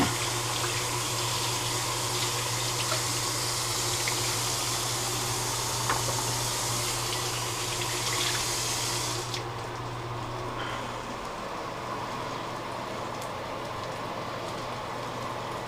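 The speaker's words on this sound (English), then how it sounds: "I actually gotta wash a dish." Kitchen tap running into a sink while a dish is washed, a steady close rush of water that drops noticeably in brightness partway through as the flow changes, continuing quietly to the end without speech.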